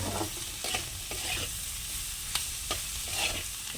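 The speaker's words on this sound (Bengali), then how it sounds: "এদিকে বিনস ভাজাটা আমাদের পেঁয়াজ কাঁচা লঙ্কা হলুদ দিয়ে দিলাম একটু নুন দিয়ে দিই" Beans frying in a pan with onion, green chilli and turmeric, a soft continuous sizzle broken by several scraping stirs of a spatula, close and moderately quiet.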